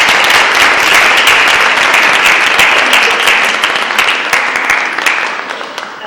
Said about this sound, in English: We can give those students a round of applause.